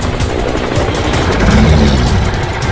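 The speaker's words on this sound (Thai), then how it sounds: "เอาเฮลิคอปเตอร์มาจับไดโนเสาร์เราไปแล้วอ่ะ" A helicopter in an animated cartoon whirs loud and close in a continuous, rapid chopping drone.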